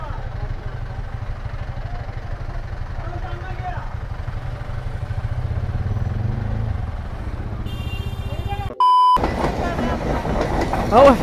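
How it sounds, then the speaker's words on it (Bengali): Train rumbling at Dinajpur railway station, a steady low roar with a busy crowd talking over it, ending in a sharp high horn blast and a louder burst of noise. "জ্যাম ট্যাম ফেলে আমরা দিনাজপুর রেল স্টেশন আইলাম"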